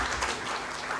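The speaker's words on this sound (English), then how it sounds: "give him a huge round of applause" A summit audience gives a round of applause for the event curator, a thick, steady patter of many hands clapping at moderate volume throughout.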